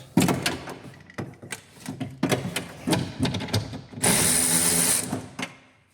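A ratchet loosening bolts on the front window regulator of a Ford Focus sedan, bursts of clicking turns with pauses between them, close by, then a louder hissing rattle near the end.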